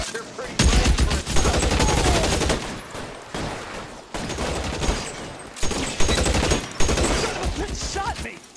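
Heavy battle gunfire rattles in dense, loud bursts of rapid shots with brief pauses between volleys, close and continuous across the scene, with shouted voices faintly mixed in.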